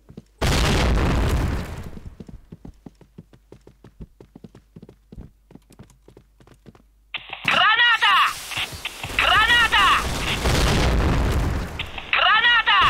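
A grenade blows up in the game Point Blank with a heavy boom near the start. A run of rapid clicks and taps follows, then later loud bursts mixed with voices.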